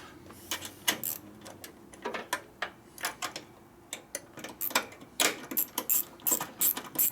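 A socket ratchet clicks in quick uneven bursts while a bolt is tightened on a 1941 74ci Knucklehead motorcycle being built as a bobber, the sharp close ticks coming in runs with short pauses and no talk.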